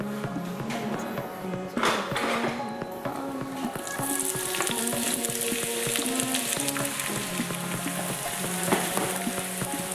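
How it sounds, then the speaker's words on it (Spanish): Onion sautés gently in oil in a pan, giving a soft, continuous sizzle that is close and moderate in level, with no voices. "Y aquí sofreiremos, o mejor dicho, pocharemos la cebollita muy poquito a poco."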